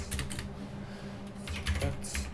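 Fast typing on a computer keyboard, a close run of light key clicks in brief bursts, steady and dry with no talking.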